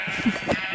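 A pair of close, clear bleats from Minecraft sheep, one low and one higher, sounding alone over a faint steady hum.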